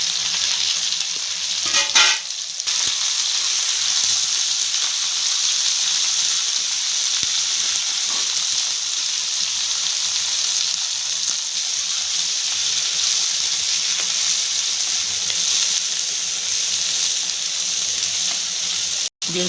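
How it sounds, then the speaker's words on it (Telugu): Broad beans fry in hot oil with a loud, continuous sizzle that holds steady throughout, broken by a brief clatter near the start. Nobody speaks. "ఇప్పుడు ఈ చిక్కుడుకాయలు అనేది వేపుకోవాలి"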